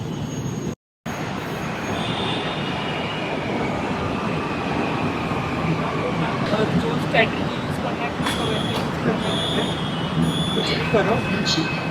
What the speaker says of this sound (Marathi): चला ट्रेन आली ट्रेन आली ट्रेन आली चल